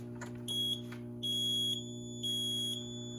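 An electronic alarm panel in a building beeps three times in sustained, piercing tones with short gaps, over a steady low electrical hum.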